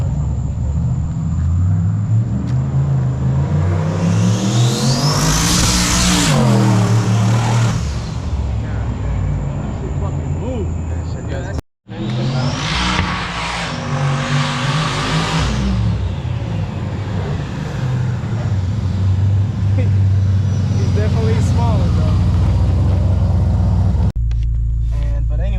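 LS-swapped pickup truck engine on a test pass, a loud surging roar that climbs and falls through two runs with a brief cutout between, close and dominant, with a little talk mixed in.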